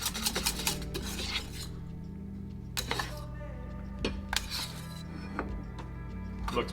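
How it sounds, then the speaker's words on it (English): A whisk rasps and clinks against a pan as a gruyere cheese sauce is stirred off the heat, a steady scraping run broken by sharp metallic taps, with a low background hum throughout. "So give it a good whisk."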